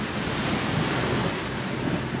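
Ocean surf rolls in below a restaurant terrace in Pattaya, Thailand, a continuous roar of breaking waves mixed with heavy wind buffeting the microphone, loud and steady with no voices.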